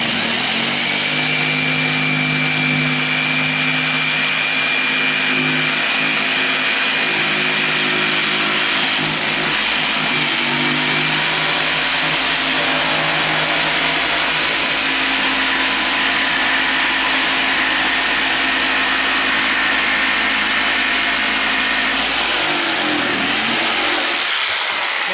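An electric jigsaw cuts facade decor material, a loud continuous motor buzz with harsh rasping that holds steady for most of the stretch before the tone shifts and drops near the end.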